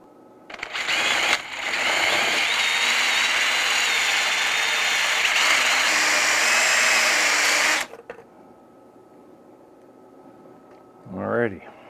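A Dremel drum sander grinds a copper GI-7B tube socket held in a vise, a loud steady high whine that runs for about six seconds, then cuts off sharply to near quiet before a brief short sound at the end.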